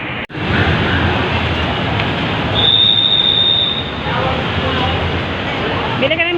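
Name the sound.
light rail train passing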